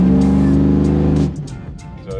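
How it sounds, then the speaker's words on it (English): A stock LQ4 6.0 Chevrolet Silverado truck held on the brake while the throttle is pushed into a stall, a loud close engine roar that cuts off abruptly after about a second, followed by quieter clatter. "See how much we can brake stall it up to."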